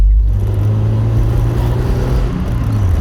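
An MG F with a K-Series engine being driven, a loud steady low engine drone and rumble heard from inside the car, with no talk.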